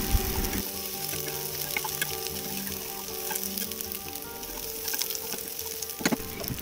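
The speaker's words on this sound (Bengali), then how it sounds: "তো এরপর আমি এর মধ্যে কিছু পেঁয়াজ কুচি অ্যাড করে দিলাম, তারপরে এটাকে ভালোভাবে মিক্স করে নিলাম।" Chopped onion frying with ginger garlic paste in a pan gives a steady, close sizzle that stays loud and continuous, with faint stirring noises and no talk.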